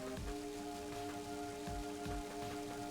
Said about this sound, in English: so now that it's raining, there's a couple more enemies I'm gonna want to try to get in the forest